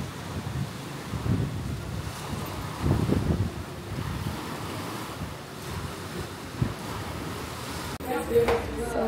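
Steady outdoor wind buffets the microphone on a hillside overlook in Albay, Bicol, at night, rumbling low and loud in gusts with a faint surf-like wash and brief bits of talk near the end.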